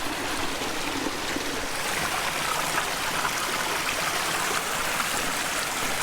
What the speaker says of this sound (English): Let's go check out this stream up here.